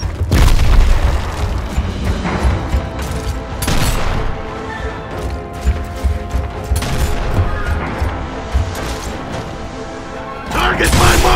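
A frag grenade detonates in the game Gears of War, a heavy close boom followed by crashing debris and scattered gunfire, with several more booming bursts through a dense battle mix and voices shouting at times.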